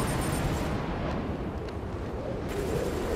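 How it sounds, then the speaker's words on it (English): Missile launch in the Batman: Arkham City video game: a sustained, broad roaring rush with a rumbling low end, loud and continuous for about three seconds, with a brief thinning in the middle. "Missile launch."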